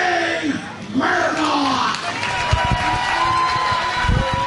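Wrestling crowd at an IWA Mid-South deathmatch cheering and shouting for John Wayne Murdoch, a steady roar of many voices with a few louder yells near the end.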